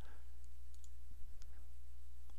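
A computer mouse clicks while layer visibility is toggled in Photoshop Elements, a few sharp, sparse clicks spread over a quiet background hum.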